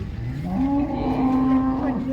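A calf lets out a single drawn-out moo at a cattle market in Modnimb, India, close and clear, rising in pitch then holding for about two seconds.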